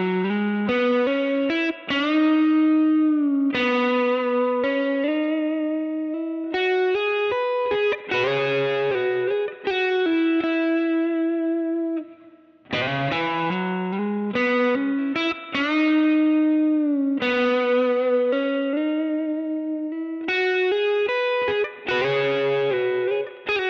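An effects-laden electric guitar plays a slowed-down 7th-chord lick, with sustained, bending melodic notes ringing over held chords in a smooth, continuous phrase that repeats, close and fairly loud.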